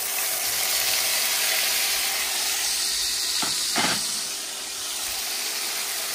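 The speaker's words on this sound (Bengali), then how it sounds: "এবার পেঁয়াজের পেস্টটা দিয়ে দিই।" Onion paste dropped into a hot pan of oil with whole garam masala, giving a steady, loud sizzle and hiss throughout, with a couple of brief sharper bursts midway as the paste hits and is stirred.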